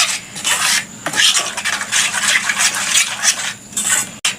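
Egg batter with chillies, salt and pepper being mixed in a bowl, close-up irregular wet scraping and swishing strokes in quick bursts, ending with a sharp clink.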